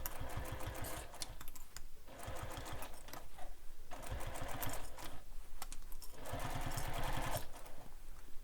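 A sewing machine stitches a bowler bag in bursts of rapid, steady needle chatter, pausing briefly between runs and starting again, close and fairly loud with no talking.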